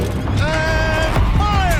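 A turret turns in Horizon Zero Dawn with a loud mechanical whine and creak that rises and bends in pitch for under two seconds, heavy rumble beneath.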